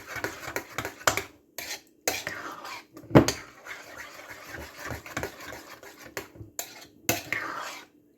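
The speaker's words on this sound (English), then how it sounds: "I want my eggs to be really mixed in here" Eggs are whisked in a bowl for lasagna, giving intermittent scraping and clinking bursts of utensil against the bowl, close and fairly quiet, with pauses in between.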